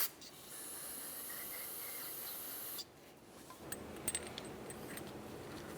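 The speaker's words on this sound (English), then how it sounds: "We'll clean these with some parts solvent over a collection receptacle." Parts solvent sprays from an aerosol can onto Honda Accord rear brake parts held over a collection receptacle: a steady close hiss for about three seconds, then a pause and faint clinks and rustles of the parts.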